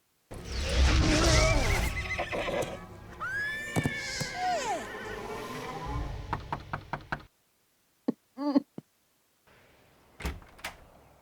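A horse whinnies loudly, its neigh rising and falling, amid knocking and thumping; later, brief sharp knocks and a short squeal break the near silence.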